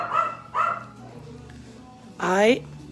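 Dogs bark close by in a home, two short barks followed after a pause by a longer, rising, whiny bark, with a person's voice talking around them.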